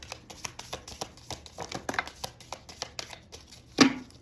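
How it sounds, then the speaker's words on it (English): Quick papery riffling of cards, a steady run of soft flicks with a louder snap near the end, close by. "I'm going to shuffle one more time and that's it."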